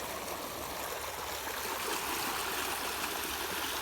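Canal water rushes steadily through an irrigation channel on a farm, a loud, continuous, close broadband roar with no talking.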